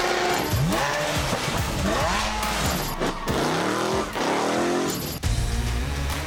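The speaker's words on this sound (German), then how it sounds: "Und beim Sound gibt halt nichts Besseres als einen Verbrenner." Combustion-engine car accelerating hard, engine revving up and shifting repeatedly with squealing tires, loud and close throughout.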